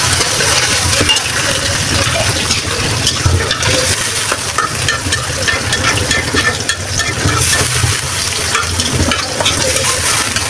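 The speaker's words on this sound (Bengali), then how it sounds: "এখন এটার ভিতরে কিছু মুসুরির ডাল দিব" Red lentils (masoor dal) go into a pan of cooking vegetables, with loud, continuous sizzling and frying and the scrape and clatter of stirring close by.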